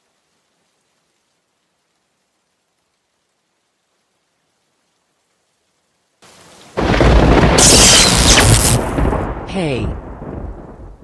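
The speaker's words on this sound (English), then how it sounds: "There's a thunderstorm approaching." A thunderstorm breaks in suddenly after silence, with steady heavy rain and a loud rumbling boom of thunder, while a voice briefly calls out over it.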